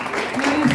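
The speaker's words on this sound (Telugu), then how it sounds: "అందరు క్లాస్ గట్టిగా వెరీ గుడ్ క్లాప్స్ లౌడ్లీ" Children clap loudly together at a gathering, a dense burst of applause with a voice faintly mixed in.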